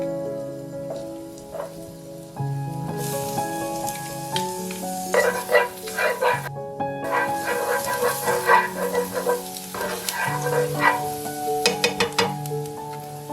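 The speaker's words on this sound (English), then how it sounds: "Using the same skillet, add a bit more oil and sauté the rest of the garlic and shallots." Garlic and shallots sauté in oil in a skillet, with steady sizzling and frying crackle punctuated by stirring clinks and scrapes; tonal sounds from background music run throughout, no voice.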